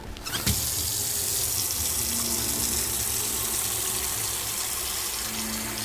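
Room-temperature water runs steadily from a tap into a container in the Autopsy Simulator video game, a loud continuous splashing rush that starts with a sharp click and carries on alone.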